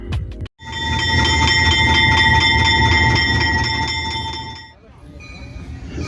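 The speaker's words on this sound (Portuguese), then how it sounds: "esse trem foi importante porque é o primeiro trem de minério gravado em Corinto" An iron ore freight train in Corinto, Brazil sounds a loud, sustained horn blast for several seconds over heavy rumbling, and the rumble carries on after the horn stops.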